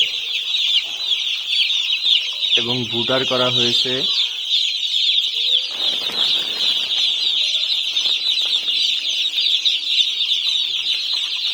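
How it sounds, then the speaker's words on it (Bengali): Many one-day-old broiler chicks cheep constantly in a shrill, dense chorus, with a person speaking briefly over them and some rustling. "এগুলো ব্রয়লার মুরগির বাচ্চা এগুলো একদিনের বাচ্চা"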